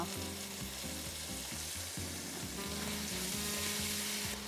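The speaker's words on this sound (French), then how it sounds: "Cuire la viande environ 2 minutes." Meat fries in olive oil with powdered ginger in a wok, giving a steady, dense sizzle at an even level for a few seconds, fairly quiet, with rhythmic tones in the background and no talk.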